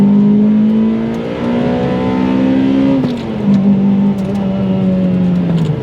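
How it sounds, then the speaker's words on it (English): A Toyota Celica with the 2ZZ engine revs hard and continuously, its pitch climbing steadily before dropping briefly and climbing again, loud and close with no talking. "the engine revs up really nicely"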